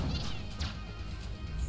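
A cat enemy called Meowser meows in Exit the Gungeon, a short, close cry sitting over busy game noise with a low rumble underneath and no talk.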